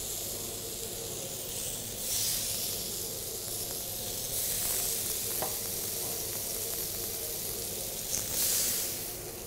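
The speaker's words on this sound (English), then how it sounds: "now I'm going to place the kebabs onto a nice hot grill" Salmon kebabs laid on a hot grill brushed with olive oil give a steady close hiss and sizzle that swells in places, with no voices.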